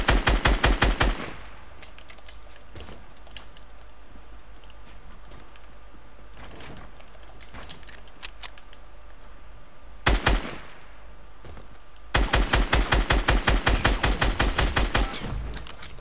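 Fortnite gunfire: rapid automatic bursts crack loud and close at the start, again briefly near the middle, then a long sustained stream of shots near the end, with quieter scattered shots in between.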